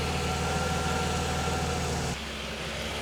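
A Mercedes 300E W124 engine with a stalling issue idles steadily with a low, even rumble and faint vibration, dropping slightly in level near the end.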